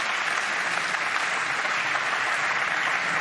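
A big crowd at the 2022 European Open Pool Championship final applauds a pool shot, steady, dense clapping that stays loud and even throughout.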